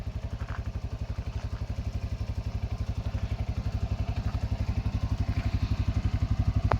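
Small auto rickshaw engine running steadily on a highway trip at dusk, a rapid even chugging pulse close by with faint clatter, no one speaking.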